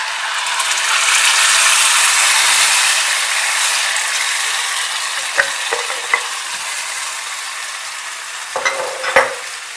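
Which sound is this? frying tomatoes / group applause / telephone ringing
frying tomatoes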